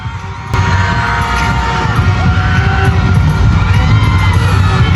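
Dense crowd noise of cheering, yelling and whooping fills a school intramurals pageant hall as a flashback plays on screen, a steady loud roar that swells just after the start and holds throughout.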